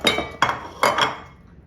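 A utensil mashes and whips a low carb danish filling in a bowl, making three or four sharp clinks and scrapes against the bowl in quick succession, close and fairly loud.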